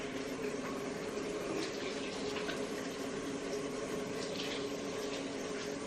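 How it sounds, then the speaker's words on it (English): Water runs from a tap at a steady, even rush while someone washes their hands, a continuous moderately quiet splashing with no pauses. "I'm gonna go wash my hands and I'll be right back."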